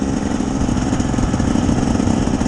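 A 2024 KTM 300 XCW TBI two-stroke dirt bike ridden as a dual sport gives a loud, continuous buzzing engine drone with a steady rapid pulse, close and unbroken, with no voices.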